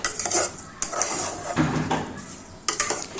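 A spoon scrapes and clatters against a pot as cooked grated amla is stirred with jaggery for chunda. The metallic strokes come close and repeated in an uneven rhythm, with no talking.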